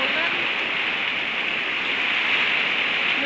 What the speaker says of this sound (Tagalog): Kahit saan ka matingin, puting-puti sa ulan.